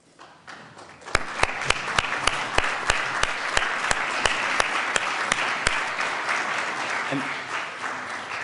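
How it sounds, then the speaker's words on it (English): Applause in a state legislative chamber as a senator's family member stands, a crowd clapping steadily with one loud nearby clapper beating out a regular rhythm, then fading. "if we could just hold the applause for the rest of the family"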